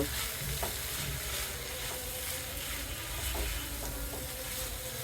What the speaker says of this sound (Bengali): আমি এখন এটাকে হালকা নেড়ে তুলে নেব